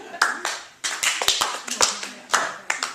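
Sparse clapping from a few audience members at a live show, irregular separate claps and short bursts, close and fairly sharp, with gaps of quiet between them.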